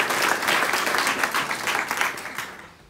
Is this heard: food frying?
no